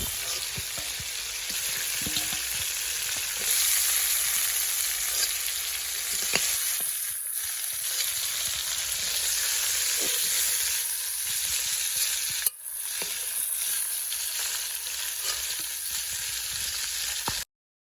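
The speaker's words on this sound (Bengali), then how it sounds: "এই দেখুন মাছটা কিন্তু বেশ ভাজা ভাজা হয়ে এসেছে" Prawns frying in hot oil in a pan for a Bengali prawn curry, a steady close crackle and sizzle with occasional stirring clicks, continuous with no talking.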